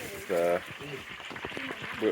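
Farmed fish sizzle and crackle as they fry in hot oil, a soft continuous hiss running beneath a person talking.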